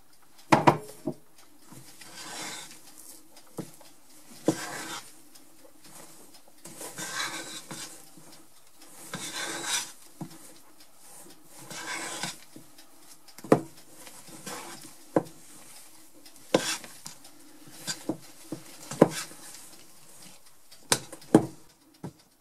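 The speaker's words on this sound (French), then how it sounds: "on va incorporer le reste des blancs." Beaten egg whites are folded into a fat-free chocolate cake batter: soft, rhythmic scraping and swishing strokes with repeated light taps of a utensil against the bowl, quiet and close throughout.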